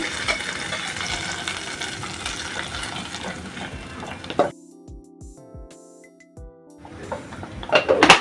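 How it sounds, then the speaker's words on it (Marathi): Ground masala paste goes into hot oil with a garlic tempering: a busy sizzle and clatter of cooking, then a quieter stretch with a few knocks before the frying noise rises again. "आता आपण हे फोडणीला देऊ वाटून घेतलेलं आहे ते"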